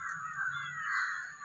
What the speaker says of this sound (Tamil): காக்கா கூட்டத்தை பாருங்க.